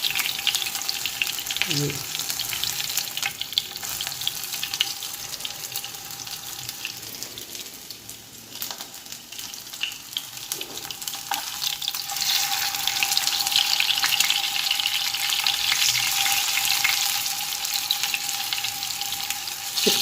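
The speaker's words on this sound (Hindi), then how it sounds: "और ये हमारा जनाब जो पीस है वो हो रहा है फ्राई" A masala-marinated fish piece fries in hot oil with a steady, hissing sizzle that swells louder toward the end, briefly under a single spoken word near the start.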